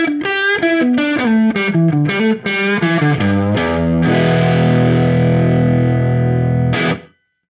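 An electric guitar runs through a Universal Audio Unison amp plugin with room sound, playing a quick distorted run of notes and then a long ringing chord that fades before a last short strum.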